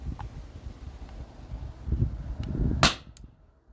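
A single sharp crack as a Sabre 68 CO2 pistol fires a 3-gram Byrpro round through a chronograph outdoors, preceded by faint wind rumble and light handling, with no voice.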